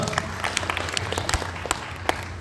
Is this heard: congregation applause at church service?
yes